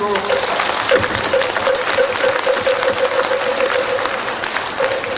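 Audience applause at a Buddhist ceremony, a dense crowd clapping steadily and fairly close for the whole stretch, with a sustained tone running through it.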